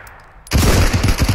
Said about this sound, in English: I'm just gonna keep firing.